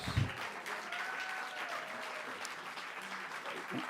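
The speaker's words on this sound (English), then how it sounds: "So let's hear it for Tom." A round of applause from the audience at a veterans group's Tom Paine 288th birthday party: steady, moderately distant clapping from many hands that continues throughout, with a faint voice briefly heard.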